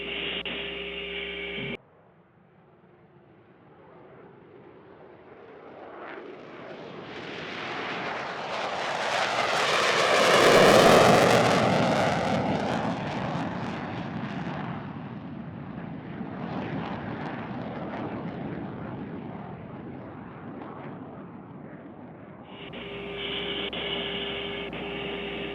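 NASA's X-59 quiet supersonic jet roars past just after takeoff. Broad jet noise swells to a loud peak, then slowly fades as the aircraft climbs away.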